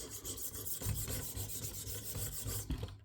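A Bubba Blades fillet knife is sharpened on a 600 grit stone in a KME sharpener, giving soft, close, repeated rasping strokes of steel scraping across the stone.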